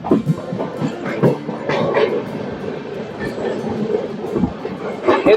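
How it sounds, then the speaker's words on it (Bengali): The Pratap Express pulls out of platform 1 at Bardhaman station, heard from aboard the train: rhythmic wheel clatter over the rails, loud and close, with rumbling carriages and intermittent background voices. "বর্ধমান স্টেশনের 1 নম্বর প্ল্যাটফর্ম থেকে ঠিক 2 মিনিট 12টা বেজে 18 মিনিটে এই প্রতাপ এক্সপ্রেস ছেড়ে দিল পরবর্তী স্টেশনের উদ্দেশ্যে।"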